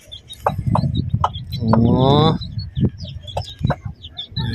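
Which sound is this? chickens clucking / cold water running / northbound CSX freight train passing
chickens clucking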